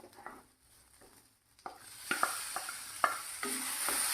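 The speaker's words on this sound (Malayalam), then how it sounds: "ഇനി നമുക്ക് ഈ മുറിച്ച് വെച്ച തക്കാളിയും കൂടി ഇതിലേക്ക് ഇട്ട് കൊടുക്കാം." Chopped tomatoes land in a pan of fried onions. It starts quiet, with soft taps of a stirring spoon, then a bright sizzle swells and holds under several firm knocks of the spoon against the pan.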